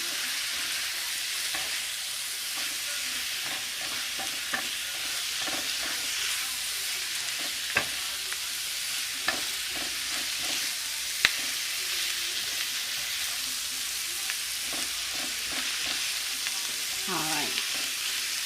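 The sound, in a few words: cabbage frying in a pan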